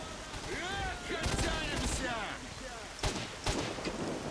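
Gunfire from a scoped rifle in the shooter game S.T.A.L.K.E.R. Shadow of Chernobyl cracks out in a few sharp bursts over a busy rumbling battle backdrop, with scattered voices in the mix.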